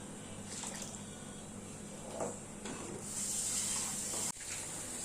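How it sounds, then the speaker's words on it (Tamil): Tomato water chutney boiling in a pan, a steady soft bubbling hiss with faint pops throughout, briefly dipping near the end. "நல்லா தக்காளி சட்னி தண்ணி சட்னி நல்லா கொதிச்சுட்ருக்கு பாருங்க"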